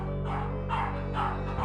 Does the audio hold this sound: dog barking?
yes